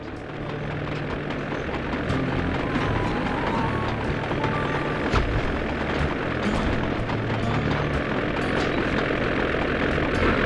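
Steady droning plane engine from the video game Sly 2: Band of Thieves, a dense continuous roar with a propeller-like buzz holding at a constant loud level throughout, with no speech.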